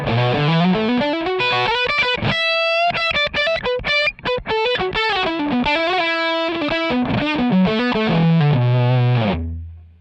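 Electric guitar through a Revv amp with an enhancer for a thick Robben Ford style tone, a fluid overdriven melodic phrase of bends and sustained notes, loud and alone, ending on a held note.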